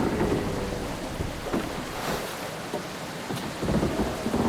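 Rain and rolling thunder from a stormy island scene in the survival video game Arctic Anxiety, with steady rainfall hiss and low rumbles swelling through the whole stretch, no talking.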